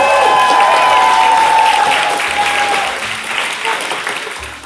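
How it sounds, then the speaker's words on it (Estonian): Loud applause from a studio audience greeting a guest on stage at a dating show, a thick wash of clapping that gradually thins and fades toward the end. "Need teeme suure aplausi meie vallalisele Adrianile."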